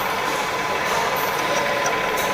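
A conventional metal lathe runs steadily in a workshop, giving a continuous, fairly loud mechanical whir and hiss with no talking over it.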